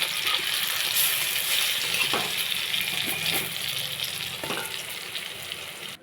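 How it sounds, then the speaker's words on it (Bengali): Lentil fritters (bora) fry in hot oil with a steady, dense sizzle throughout, broken by a few light taps of a spatula or utensil against the pan. "বড়াগুলো সব ভাজা হয়ে গেছে"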